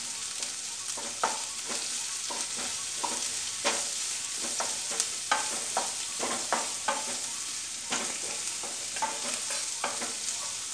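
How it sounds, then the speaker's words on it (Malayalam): Onions sizzle in a hot pan for mutton curry, with a steady soft frying hiss broken by frequent scraping taps of a spoon stirring them, close and moderately quiet, no voices. "ഇനി നമുക്ക് അതിലേക്ക് സവാള ചേർത്ത് കൊടുക്കാം. ഇതൊന്ന് നന്നായിട്ട് ഇളക്കി കൊടുക്കുക."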